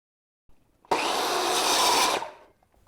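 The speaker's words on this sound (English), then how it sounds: "I then cut the lengths out and check that it fits." A single continuous cut through wood pieces for a Murphy bed frame, a loud, close, harsh rasping burst of about a second and a half with a soft click before it and quiet after.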